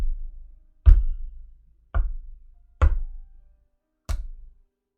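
Four sharp, hollow knocks land at uneven intervals on a surface wired to an Arduino servo knock lock, each a brief loud thump that decays quickly into silence.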